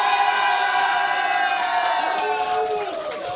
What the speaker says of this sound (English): Can you guys let me know who's cheering for Na'Vi?